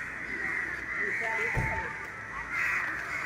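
Crows caw near the beach at Ganpatipule in the early morning, a few harsh calls sounding under people talking against steady outdoor background noise.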